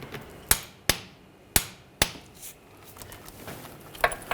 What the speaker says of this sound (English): Now we're going to torque these to 60 foot-pounds.